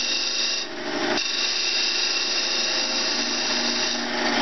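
A belt sander with a 60-grit belt shaping and rounding the tip of a wooden drumstick, a steady close whine with a slight change in pitch as the wood is pressed to the belt.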